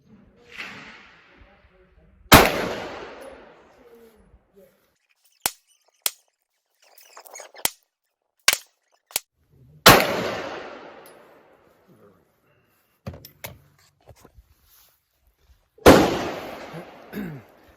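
A Glock 48 MOS pistol with a Holosun 507K sight fires several loud, sharp shots a few seconds apart, each with a ringing decay, interspersed with quieter clicks and handling sounds.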